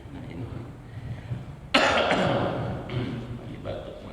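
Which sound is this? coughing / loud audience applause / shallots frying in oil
coughing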